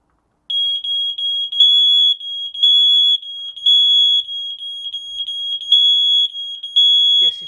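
A smoke alarm on an interconnected system, triggered from a second unit of a different brand, sounds a loud, shrill, pulsing electronic beep that repeats rapidly and steadily until it cuts off near the end.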